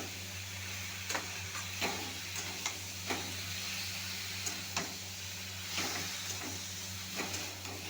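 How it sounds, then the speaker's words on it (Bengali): Spinach stirred and frying in a pan with faint steady sizzle and hiss, broken by soft, irregular spoon taps and scrapes against the pan, quiet and close with no talking. "শাকটা দিয়ে একটু ভেলুনি মেরে নিই"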